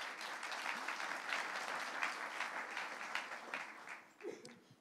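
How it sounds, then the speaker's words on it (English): An audience applauds after a speaker is introduced at a conference talk on machine learning for drug discovery, a sustained wash of clapping that thins out and fades toward the end. "And an applause."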